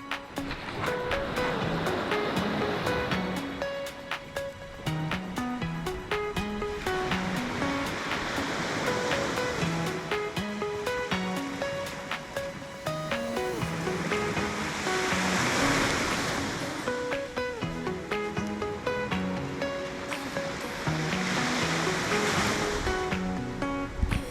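Ocean surf on a Florida Gulf Coast beach, a continuous wash of breaking waves with rising and falling swells, loud and close, while music plays over it.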